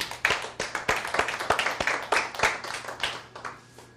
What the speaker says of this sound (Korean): 우리 다 같이 박수하겠습니다